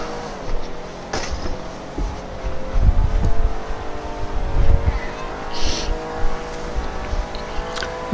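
Engine of a Canis Freecrawler off-road vehicle in GTA Online revving and accelerating, a rising and falling drone with a few sharp bumps and surges, steady and moderately loud throughout.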